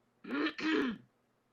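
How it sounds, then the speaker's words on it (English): A person clears their throat twice in quick succession, two short, close, raspy bursts in an otherwise quiet room. "I always clear my throat a lot"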